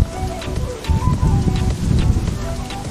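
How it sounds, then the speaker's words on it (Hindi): Steady rain falling outdoors on a hillside near Pithoragarh, a dense, loud patter without any let-up, with no voices heard. "अब हमें भीगने से कोई नहीं बचा सकता क्योंकि बारिश स्टार्ट हो चुकी है।"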